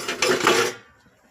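Last night's dishes and pots are scrubbed and knocked together, giving a short burst of close metallic clatter that fades into quiet after less than a second.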